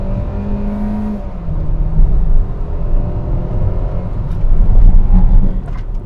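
A Hyundai HB20X 1.6 automatic accelerates hard from inside the cabin, engine drone rising steadily in pitch, briefly dipping at a gear change, then climbing loud again.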